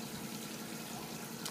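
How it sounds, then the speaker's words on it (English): Water pours steadily into a machine coolant tank as it is filled, a continuous rushing splash that stays close and loud for the whole stretch. "I put in 6 gallons of water and"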